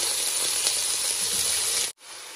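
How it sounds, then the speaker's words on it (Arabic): Beef going into hot spiced oil in a pan for tajine torli, a loud continuous sizzle and hiss that stops abruptly near the end. "هنزل بيهم، شايفين بقى لما بنزل بيهم الكش دي"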